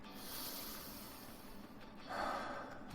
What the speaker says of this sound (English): take 2 deep breaths with me.